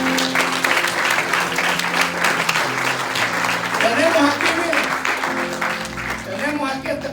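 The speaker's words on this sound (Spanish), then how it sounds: "Denle un aplauso al Señor, hermano." A church congregation applauds steadily throughout, with voices mixed in under the clapping.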